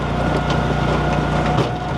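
A Japa 395 firewood processor cuts and splits boiler wood outdoors, a loud continuous mechanical drone with hydraulic and engine hum and a brief crunching shift near the end.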